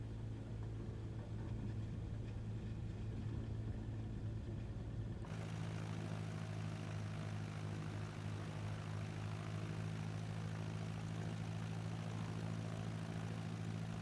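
Propeller aircraft engine droning in a flight simulator as the plane begins a crosswind takeoff from EGLS, steady and continuous, with the engine tone shifting and rising partway through, no talk.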